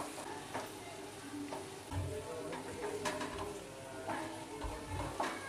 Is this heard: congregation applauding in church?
no